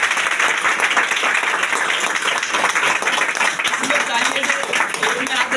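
Audience at a large gathering claps vigorously in a thick, continuous roar of hands, with some voices and cheers mixed into the applause.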